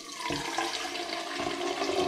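Water pouring into the reservoir of a Nespresso Vertuo Plus coffee machine, a continuous close splashing rush from a tap that holds steady for a couple of seconds with no voices.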